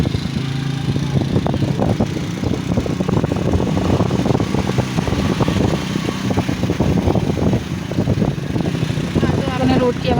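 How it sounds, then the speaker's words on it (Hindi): Motorbike riding along a road, a steady close engine drone mixed with rushing wind and road noise and irregular buffeting thumps, continuous throughout the ride. "आपने रोड की आवाज़ सुनी ली होगी और बाइक की आवाज़ भी सुन ली होगी"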